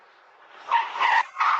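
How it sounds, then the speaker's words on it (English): An SUV fleeing police on the north side of Syracuse skids at night, its tires squealing loudly in several harsh bursts over a low road rumble. No talk is heard. "the moment an SUV fleeing from police slams into this truck on the north side of Syracuse last night"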